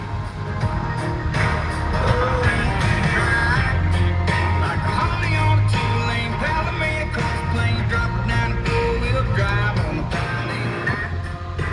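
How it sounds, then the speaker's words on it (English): Music plays from the car stereo inside a Ford F350 Super Duty 7.3L Powerstroke truck, a steady, full mix with bass and rhythmic beats filling the cab at moderate loudness. "Let's turn the stereo on."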